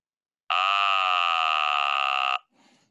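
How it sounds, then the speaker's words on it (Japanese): A buzzer sounded through a physical vocal tract model gives a steady electronic buzz with strong even harmonics, holding for about two seconds, loud and continuous, then cutting off, followed by a faint short tail. "ブザー音を出します。"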